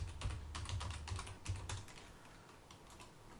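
Quiet bursts of keystrokes on a computer keyboard, quick uneven clusters of taps in the first half, then trailing off into near silence.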